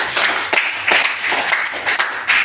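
Church congregation clapping for Jesus, a close run of rhythmic handclaps in quick bursts, fairly loud, with a low hum underneath.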